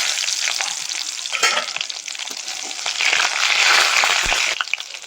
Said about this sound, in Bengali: তেলের মধ্যে কাঁচা লঙ্কার কালো জিরে ফোড়ন দিয়ে দেবো